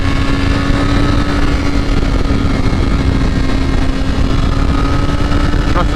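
A 2023 BMW S1000RR sportbike engine drones at high, steady revs during a top speed run, loud and constant with rushing wind noise and no break in the pitch.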